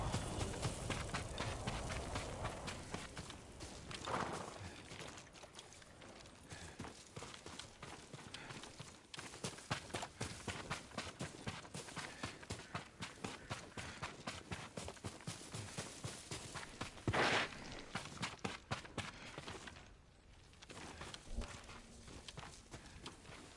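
Rapid, rhythmic clip-clop of horse hooves in a video game, a steady trotting beat throughout with a couple of louder thuds, no talking.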